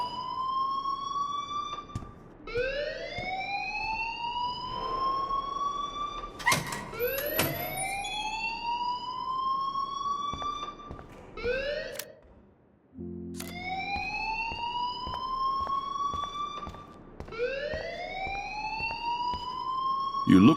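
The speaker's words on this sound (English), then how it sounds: "please turn off that alarm since that's your job" An alarm wails in the Life Is Strange video game, a loud siren that rises and repeats in long sweeping cycles, briefly pausing once while faint talk sits beneath it.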